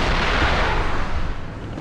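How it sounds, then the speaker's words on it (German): A Marder A1 fires a shell in War Thunder, a single loud, heavy boom whose rumbling blast decays over about two seconds. "Komm, wir machen einfach noch eine Granate rein."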